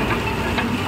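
A rasgulla making machine running in a sweet-making workshop in Purulia, West Bengal, giving a steady, dense mechanical hum and rattle that stays even throughout the brief moment, with no talk.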